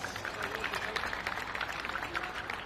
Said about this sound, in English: Ladies and gentlemen, one final round of applause for your OKN